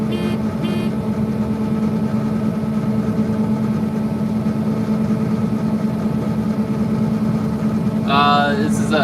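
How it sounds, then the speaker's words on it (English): A John Deere 9610 combine fitted with an 893 corn head runs with a steady low engine drone throughout, close and constant, with a brief higher mechanical chatter near the end. "9610 combine, running an 893 corn head on it."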